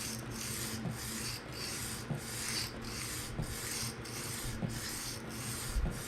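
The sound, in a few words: knife sliding across sharpening stone, freehand sharpening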